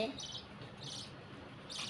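Pet birds in a cage give three short, faint bursts of high chirping spaced about a second apart, over a quiet background.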